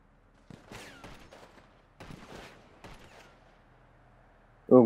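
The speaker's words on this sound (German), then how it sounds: "Irgendwas schießt hier auf mich" Gunfire in the video game GTA Online, with several bursts of shots cracking at fairly close range and brief pauses between them, fairly faint overall, followed by a loud sudden sound at the very end.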